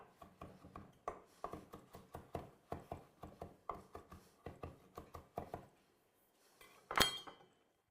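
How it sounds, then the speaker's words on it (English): A knife chops cilantro with the root still attached on a cutting board for a smashed cucumber salad, giving a steady series of close, crisp thuds before a pause and one louder clatter near the end. "And now just roughly chop over it once."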